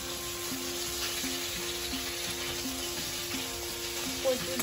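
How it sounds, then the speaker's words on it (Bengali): Onions fry in a pan for a Bengali prawn malai curry, giving a steady crackling sizzle broken by light, regular taps of stirring, close and moderately loud. "লাল লাল করে আমরা পেঁয়াজটা ভেজে নেব।"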